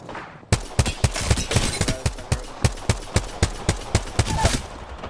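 Rapid bursts of gunfire in Apex Legends, a sharp run of about a dozen loud close shots at an even rhythm with a few quicker volleys between.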